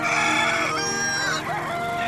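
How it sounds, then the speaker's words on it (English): Rooster crowing loud and close, a long drawn-out call with a second crow following as it fades, no talk over it. "you still would hear a lone rooster crow"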